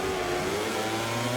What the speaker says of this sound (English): Let's rev the engine up